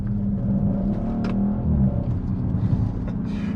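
Engine of a 2019 Audi RS5 Sportback revving, a steady, close, deep rumbling drone with a brief surge in the middle, with no voices.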